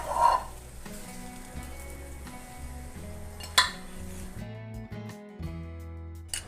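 A foxtail millet dosa is being folded with a spatula on a pan: faint clinks and scrapes of metal against the pan over a soft sizzle, with a few sharper knocks.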